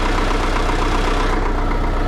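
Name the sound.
old tractor engine idling after starting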